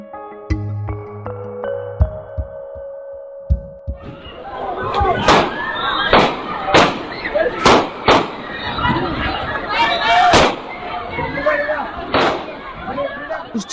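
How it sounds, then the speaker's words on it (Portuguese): GNR soldiers fire shots while chasing a car after a run-over in Albufeira, a series of sharp cracks spaced irregularly amid street noise, following a brief steady tone at the start. "Os disparos que ouvimos foram feitos pelos militares da GNR que corriam atrás do carro"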